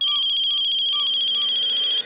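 A telephone ringtone chirps in a steady repeating electronic pattern of bright pulsed tones, loud and close, running continuously for about two seconds before cutting off, with no voices over it.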